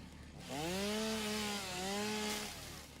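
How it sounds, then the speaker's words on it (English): Chainsaw in the video game Satisfactory revving up into a sustained buzzing whine that dips once and rises again before cutting off, loud and steady with no voices over it. "Chainsaw."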